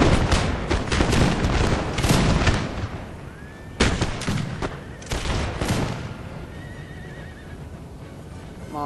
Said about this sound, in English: But this building is firing in all directions